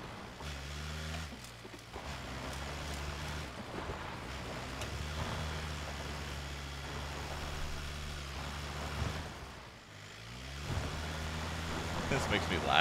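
A car engine in PUBG drones steadily at a low pitch, its tone shifting briefly now and then, mixed with light background noise.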